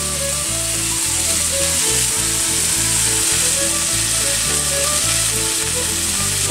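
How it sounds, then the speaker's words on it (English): Bacon sizzles and crackles in a pan on a stove while cooking an 18th-century breakfast, a loud, dense, continuous frying hiss with no voices. "If you're cooking bacon on a stove"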